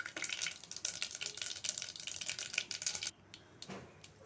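Onions and green chillies crackle and spit in hot tempering oil for a steady, close sizzle lasting about three seconds, then the frying drops to a quieter simmer.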